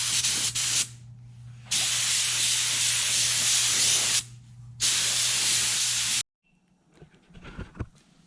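Clear coat sprayed onto a repaired steering wheel in two long, steady hissing bursts with a short pause between, close and loud, followed by quieter handling sounds.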